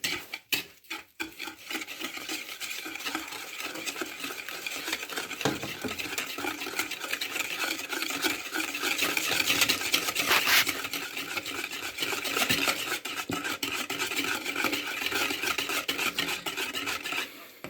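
Sugar is stirred into a mixture in a continuous, even scraping and rubbing that runs steadily for a long stretch, fairly close and with no talking.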